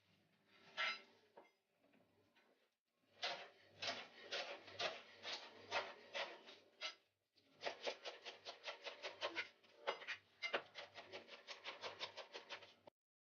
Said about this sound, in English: Then cut the capsicum into strips.